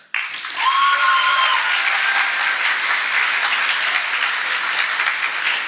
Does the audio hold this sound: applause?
yes